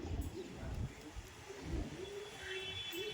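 Madrasi pigeons kept as pets at a home give soft low cooing calls that repeat in short bursts close by, with faint chirps above them and no talk.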